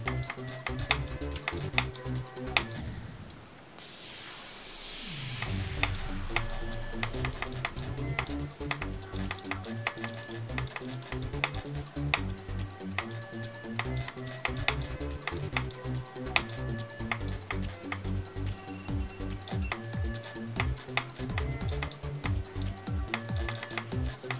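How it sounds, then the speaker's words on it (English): Rapid, fairly close clicking of a computer mouse at a gaming desk, steady and dense through most of the stretch, with faint background sound and no clear talk. "I hear my own mouse clicks"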